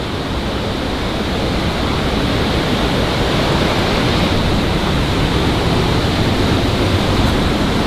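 Continuous broadband rushing of a large stream of water flowing behind a wall in an underground tunnel, a loud, steady hiss and rumble with no pauses and no voices.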